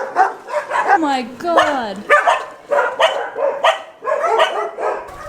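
Several dogs barking and yapping excitedly on a harbourside walk near a castle, loud and close, with overlapping barks, yelps and a whimpering whine mixed with a person exclaiming.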